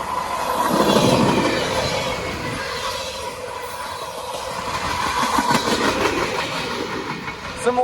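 A CSX freight train rolls past at a railway crossing with a continuous rumble, rhythmic clickety-clack of wheels over rail joints and faint wheel squeal, loud and near throughout.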